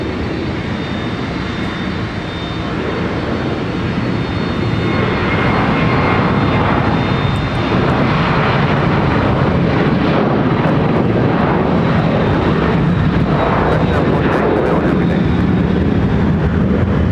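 A Delta airliner departing from Minneapolis–St. Paul for Salt Lake City gives off a loud, continuous jet engine roar that builds slightly and holds steady, a broad rumble with a thin high whine on top.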